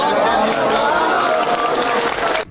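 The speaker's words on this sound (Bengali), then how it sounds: "জোরে হাততালি দিন" A large audience claps and cheers loudly at a gathering, a dense, sustained wash of applause and crowd noise that cuts off abruptly at the end.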